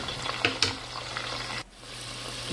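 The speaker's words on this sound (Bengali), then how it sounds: "আর অন্য একটা পাতিলে তেলের মধ্যে পেঁয়াজ দিলাম। পেঁয়াজ দিয়ে একটু নাড়াচাড়া করবো।" Onions fry in hot oil in a pot for beef chili gravy and are stirred. A steady, close sizzle is broken by a few sharp utensil knocks, and it briefly dips quieter near the end.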